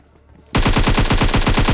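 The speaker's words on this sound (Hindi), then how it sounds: "सबसे पहले AKM से इस वाले बंदे को नॉक करा" AKM assault rifle firing a rapid sustained burst in PUBG Mobile, loud evenly spaced shots starting abruptly after a quiet moment.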